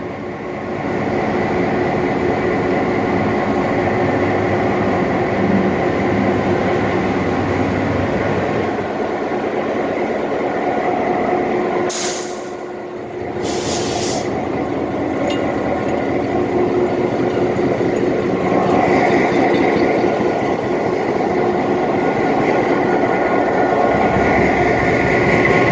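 Seen from the cab of a North Shore Scenic Railroad train, the locomotive gives a loud, steady mechanical drone and rumble throughout, with a short dip and a few brief hissing bursts partway through.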